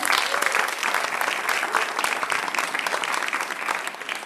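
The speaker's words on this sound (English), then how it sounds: "Clap if you're a WDC member." A crowd claps steadily, a dense patter of many hands applauding at even loudness throughout.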